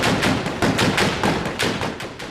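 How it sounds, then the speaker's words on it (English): Heavy weapons pound out a suppressive barrage at insurgents in close urban combat, a dense, rapid string of loud, overlapping bursts and thuds with no pause throughout. "The heavier weapons fire a barrage at the insurgents."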